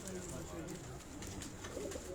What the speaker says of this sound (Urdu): یہ 27 نمبر کبوتر ہے جی، 27 نمبر ٹیڈی کبوتر